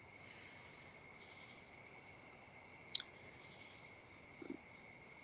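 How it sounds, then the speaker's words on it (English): Steady high-pitched insect chirring, like crickets, runs throughout at a low level outdoors, with a couple of faint brief clicks. "I don't know if you guys can hear the crickets"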